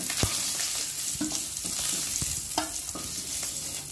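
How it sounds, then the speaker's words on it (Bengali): Boiled new potatoes frying in oil left over from frying eggs, a loud, close sizzle broken by irregular clacks and scrapes of stirring in the pan. "তুলে নিয়ে এই ডিম ভাজার তেলেই কিন্তু আমি সেদ্ধ করা আলুগুলো ভেজে নেব"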